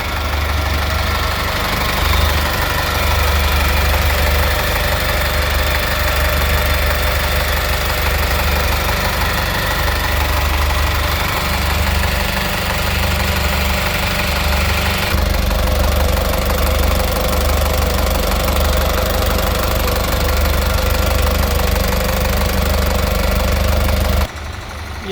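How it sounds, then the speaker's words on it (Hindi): A 2016 Mitsubishi Canter tipper truck engine in original, never-opened condition idles steadily for the whole stretch, a loud, close, knocking diesel rumble with no voices. "ये था 2016 मॉडल मित्सुबिशी कैंटर टिपर का इंजन"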